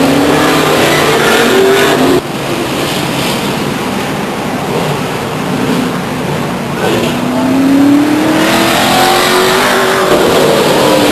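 Grand American Modified race cars roaring around Stockton 99 Speedway, a loud continuous engine din with rising and falling revs as cars pass close by.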